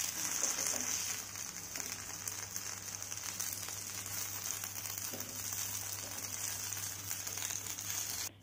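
Raw plantain slices frying in oil in a covered pan, a steady faint crackling sizzle throughout with occasional small pops, alone without talk.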